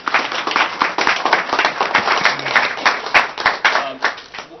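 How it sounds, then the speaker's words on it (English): A conference audience applauds presenters at the end of a vendor session on school phone systems and student safety, a steady burst of many hands clapping at close range, dense and continuous for several seconds with no talk over it. "Big round of applause for our presenters."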